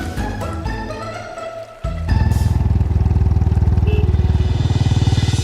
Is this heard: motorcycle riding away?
yes